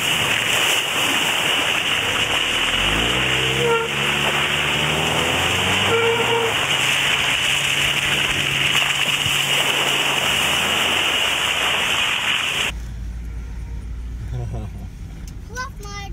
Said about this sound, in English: You splashed up so much water into the air that it started raining.